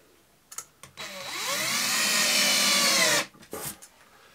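Power drill whirs steadily for about two seconds while driving screws into a lower kitchen cabinet carcass, with short bursts and knocks before and after, loud and close.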